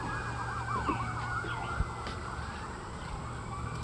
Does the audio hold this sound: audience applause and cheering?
no